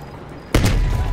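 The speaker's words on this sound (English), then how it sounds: "At the fork, you followed the road right toward the sound of gunfire." A sudden loud burst of gunfire erupts after a brief quiet lead-in during a firefight in the video game Call of Duty Cold War, with booming reports rolling on to the end.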